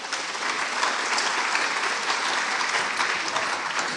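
Audience applause at a science-outreach conference's closing session, a dense, steady wash of clapping from a full room lasting the whole four seconds with no voices over it.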